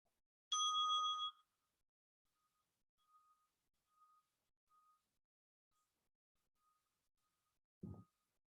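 A meditation bell is struck once to open a guided breathing session, a clear bright ring that fades into a long, soft hum, followed by a low thump near the end.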